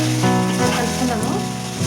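Chili powder and turmeric stirred into hot oil for a chavlakai egg curry, a loud close continuous sizzle with a soft stirring movement, brief and without talking.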